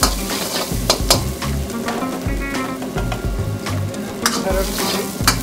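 Chopped onion sizzles and fries steadily in a hot pan for chilli fish, with a near, continuous crackle broken by repeated stirring scrapes and clanks of the spatula against the metal.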